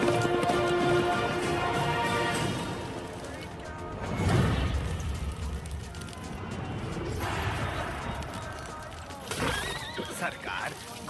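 A horse's hooves clip-clop in a Hindi action film scene, with a whinny mixed in, heard amid a dense soundtrack with voices and a crash partway through.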